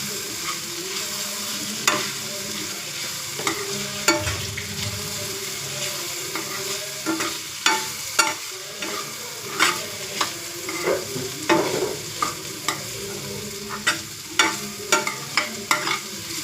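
Fried cluster bean palya being mixed in a pan, with repeated rhythmic spatula scrapes and clacks over a continuous low sizzle.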